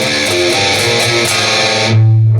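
Distorted electric guitar plays a glam metal riff, loud and dense with sustained crunchy notes, ending on a held low chord, close with no talk.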